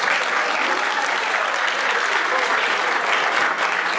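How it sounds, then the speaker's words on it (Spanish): Dense, steady applause from a lucha libre wrestling crowd in Chile fills the space, loud and continuous for the whole stretch with no let-up. "Oye, ¿para qué fue el aplauso?"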